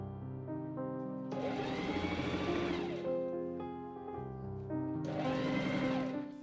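A sewing machine stitches a collar onto the neck of a Victorian gown in two loud, steady bursts of rapid whirring, each about two seconds long. Soft music plays underneath throughout.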